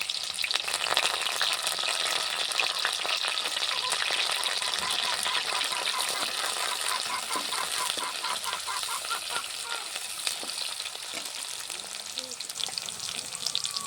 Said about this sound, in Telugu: నూనె అయితే కాగింది ముందుగా కట్ చేసి పెట్టుకున్న ఎర్రగడ్డ ముక్కలు అయితే బాగా వేస్తున్నా కరివేపాకు కానీ వేస్తున్నా